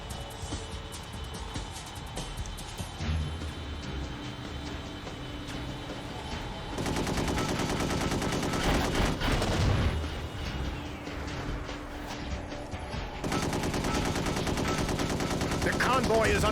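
Sustained gunfire and machine-gun bursts hammer a convoy in the Gun Metal video game, loud and continuous with heavy booms layered throughout and no talking over it.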